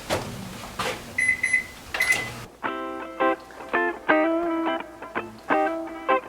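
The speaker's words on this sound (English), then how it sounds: "Total of 3 minutes is what I did with the microwave." Microwave oven heating milk, with a few clicks and short tones, then a run of repeated beeps in uneven bursts, close and clear.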